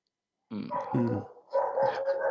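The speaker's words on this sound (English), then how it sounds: "This guy have a dog. In the street." A dog out in the street barks and growls in a short burst at moderate distance, a couple of rough yips following a brief silence.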